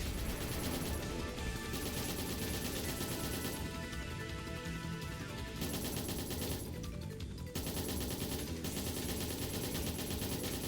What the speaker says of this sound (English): He's doing big missiles, of course he is.